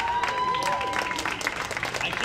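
A crowd at a 2018 peace parade claps for a group, dense scattered applause that carries on steadily, with a voice speaking over it and a brief tone early on.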